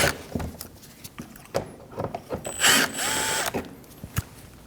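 A tool loosens T25 screws from the front bumper cover of a 2012-2022 Volkswagen Passat: sharp ratcheting clicks and knocks in irregular bursts, then a short steady whir midway, close and fairly loud.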